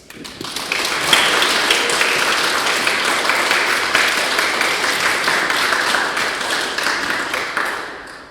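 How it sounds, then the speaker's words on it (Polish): Congregation applauding a bride and groom during a Polish wedding Mass in church, a dense, even wash of clapping that rises quickly and holds loud and steady for several seconds before easing off. "wyrazimy naszą radość oklaskami"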